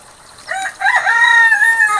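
A rooster crows loudly and close by, a long drawn-out call with chicken clucks mixed in, no talking.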